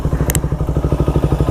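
A dusty motorcycle that has sat unused runs close by with a steady, rapid thumping idle, each low pulse evenly spaced, with a brief clatter near the start.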